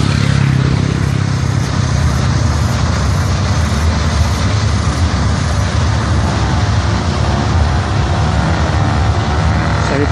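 Engines of construction project vehicles working at a building site. They make a continuous broad rumbling drone, like heavy traffic, that stays steady and moderately loud throughout, with no speech.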